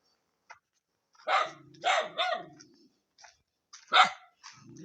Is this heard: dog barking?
yes